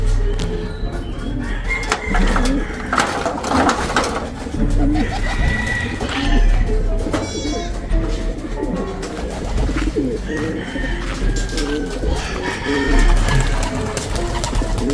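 Racing pigeons of rare off-colour breeds, including ice pigeons and tiger grizzles, coo steadily in a loft, with overlapping calls and some rustling throughout.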